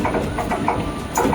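Train hauled by WAP-4 electric locomotive 22281 at a station on the Kollam–Sengottai route in Kerala, with a steady rumbling and clanking run of wagons and periodic mechanical knocks, fairly close and continuous, without speech.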